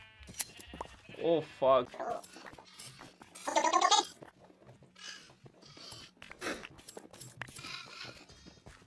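Sheep bleat repeatedly in Minecraft while their wool is sheared, giving several short, wavering cries up close amid clicking game sounds, with someone talking and exclaiming between them.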